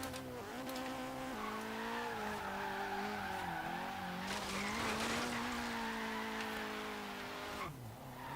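A Nissan 240SX in Forza Horizon 3 drifts after a clutch kick, its tires squealing in a long, loud, wavering screech over high engine revving that lasts several seconds before dipping at the end.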